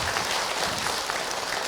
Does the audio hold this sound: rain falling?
no